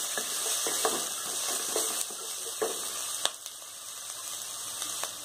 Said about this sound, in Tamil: இப்போ இஞ்சி பூண்டு போட்டுக்கோங்க, கொஞ்சம் வதக்கி விடுங்க.